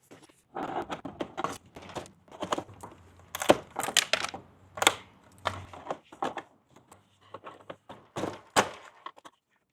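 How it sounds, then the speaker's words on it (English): A chisel scrapes glazing compound off a window in short, close, irregular strokes, producing dry scraping bursts and small knocks separated by brief pauses, with no talking. "then a chisel to kind of scrape off the glazing compound if you need"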